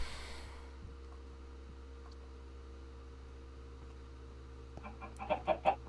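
A chicken in the survival video game How to Survive gives a short run of faint clucks near the end, following a quiet stretch of steady low hum.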